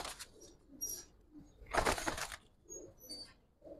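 Pet pigeons being shown for sale, soft low cooing in short separated phrases with light flutters and a brief louder rustle in the middle, close by and without talk.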